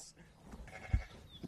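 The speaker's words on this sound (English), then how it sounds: "And a goat." A goat bleats briefly in a low-budget 2008 vampire film, one short faint cry amid quiet background sound.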